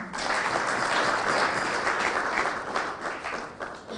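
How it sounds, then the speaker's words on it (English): A crowd at a speech event for President Mwai Kibaki bursts into sustained, dense applause. The clapping is loud and steady throughout, with no voices over it. "I think you clap for him again."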